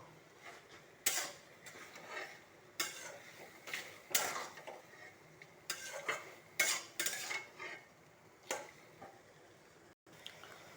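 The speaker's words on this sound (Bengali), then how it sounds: "কাজু, পনির আর একটু মালাই পেস্ট করে রেখেছি, এটা আমি ওপর থেকে দিয়ে একটু মিক্স করে নেব" Spoon stirring a paste of cashew, paneer and cream into a curry, giving repeated scraping, clinking strokes against the pan in irregular bursts, close and moderately loud with no talking.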